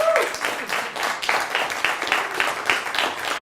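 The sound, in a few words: applause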